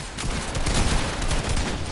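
Sniper rifle fire in Fortnite during a console tournament match, a dense burst of loud, sharp gunshot cracks heard close, with no talking over it.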